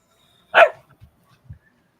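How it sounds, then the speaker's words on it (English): A single dog bark rings out close and loud, followed by a few faint low thumps and rustles in an otherwise quiet room. "Whose dog is that?"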